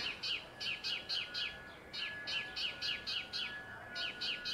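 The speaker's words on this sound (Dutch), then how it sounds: "Het zijn ook kleine vogeltjes," Small birds chirp in quick repeated bursts of bright tweets, grouped in clusters with short pauses, fairly faint against a quiet outdoor background.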